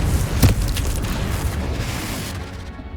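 A fiery spell blast from Hogwarts Legacy erupts with a sharp boom near the start, then a dense, sustained rumble and crackle of explosion debris that slowly fades.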